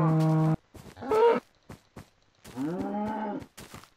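Cows mooing in the Minecraft video game, three separate moos: a flat tonal one at the start, a short rising one, then a longer drawn-out call, separated by brief quiet gaps and soft clicks.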